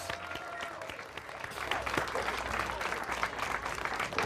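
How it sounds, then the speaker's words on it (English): Audience applause after a singing performance, a steady dense crowd clapping that builds and stays fairly loud, with faint voices mixed in. "They deserve a bigger round of applause than that."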